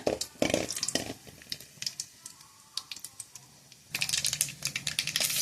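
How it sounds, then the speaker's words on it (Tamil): Urad dal and mustard seeds spluttering in hot oil in a kadai for tempering, sharp crackling pops in rapid irregular bursts, denser and louder in the final second and a half. "கடாயில் எண்ணெய் வச்சுட்டேன். உளுந்து கடுகு போட்டுக்கிட்டேன்."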